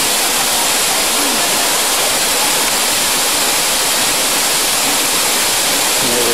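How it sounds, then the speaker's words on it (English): A waterfall at Morne Trois Pitons National Park in Dominica pours into the emerald pool below, making a loud, unbroken rushing roar that fills the scene without letup. "The emerald pool at the bottom of the waterfall."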